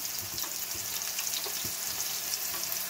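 Masala sizzles steadily while frying in a pan for a chicken pakora and veg curry, a continuous close crackle with light stirring scrapes and no talk.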